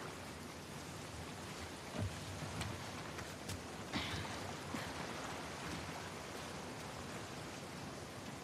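Steady rain falls in the video game The Last of Us Part II, a faint, even hiss that runs throughout, broken by a few soft isolated thuds and ticks.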